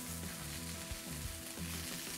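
Broccoli sautéing in olive oil while being tossed in the pan, a faint continuous sizzle with soft rhythmic rattling of the pieces, no voices.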